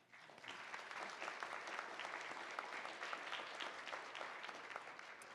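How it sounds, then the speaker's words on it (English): Warm applause from an audience, steady clapping that swells in quickly and holds throughout, heard from a distance in a large room. "Please join me in a warm round of applause for all of them."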